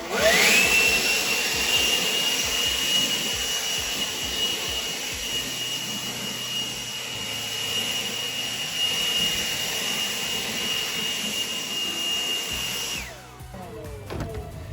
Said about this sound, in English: So give the mower a good blow.